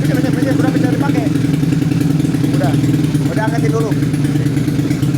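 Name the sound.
tuned 155cc racing motorcycle engine running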